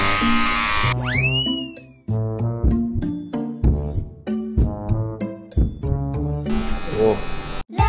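Electric hair clippers shave a head down to a bald buzz cut, their motor buzzing in bursts that start and stop, with voices talking and exclaiming around it.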